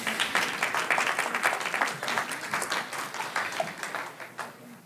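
A city council meeting audience claps steadily in a council chamber, a dense, even patter of many hands at moderate distance that holds throughout and fades slightly at the end.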